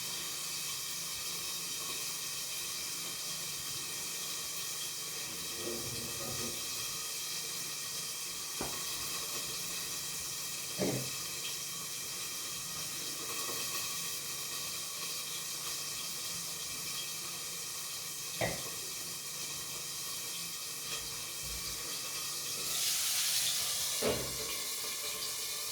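Hamburger patties sizzle in a pan on a stovetop burner at full heat, a continuous close hiss and crackle with occasional soft clicks and pops and no talking.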